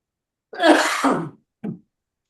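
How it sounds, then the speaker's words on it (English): A harsh, raspy cough close up, one long throaty burst followed by a short second cough, with silence around it. "this cough's getting on my nerves tonight"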